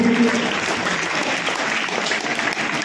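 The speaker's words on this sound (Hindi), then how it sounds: "जोरदार ताली अभी सभी उन 11 बच्चों के लिए भी।" Loud, continuous applause from a crowd at a school results ceremony honouring CBSE class 10 students, a thick, steady wash of clapping close by with no gaps.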